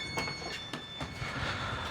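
Inside a train pulling into a station, steady rumble of the carriage with wheel and rail clatter and a few sharp knocks as doors open, close and continuous, no talking.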